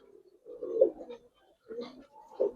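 Gribaz coloring pigeons give a few soft, low coos close by, in short separate phrases with quiet gaps between them.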